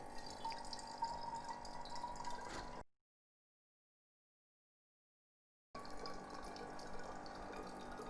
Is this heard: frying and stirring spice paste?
no